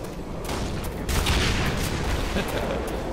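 In the game Black Mesa: Source, a booming explosion breaks a rock through a constant roar of noisy game sound, followed by rumbling debris and lingering crackle.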